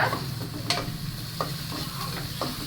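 Onions sauté in a pan for a home-cooked bean stir-fry, with a continuous low sizzle and a few sharp spoon clicks and scrapes, no speech.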